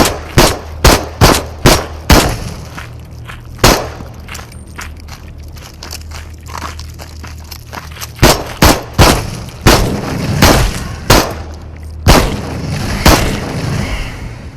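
Loud, sharp gunshots from the VR shooter game Into the Radius, fired singly and in quick bursts with pauses between volleys and faint movement sounds in the gaps.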